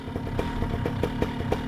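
A Vittorazi Moster EFI paramotor engine idles steadily while warming up, a continuous close mechanical drone with a regular pulsing rhythm and light clatter, no voices over it.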